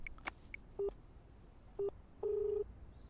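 A telephone number is dialed: a few short keypad beeps, then brief tones and a longer steady tone, all quiet and clean with no talk.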